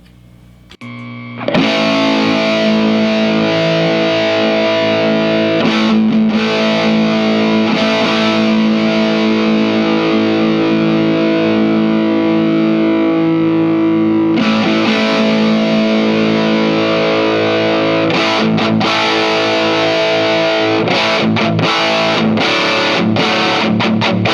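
Distorted bass guitar through an Orange Bax Bangeetar preamp, EQ frequency being swept, holding sustained notes and short riffs, loud and steady, with the tone shifting as the filtering changes.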